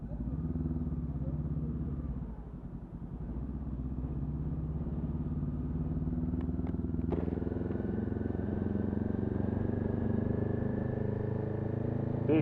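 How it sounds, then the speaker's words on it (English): Scooters and motorbikes ride through busy London traffic, a steady mid-range engine drone with clattering road noise held close and continuous throughout, rising slightly later on with a faint high whine. "These scooter lads are going to be a lot quicker than I am through here."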